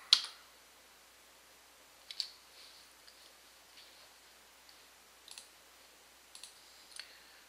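A computer mouse and keyboard clicking in a quiet room: a handful of sharp, sparse clicks, some in quick pairs, separated by long silent gaps.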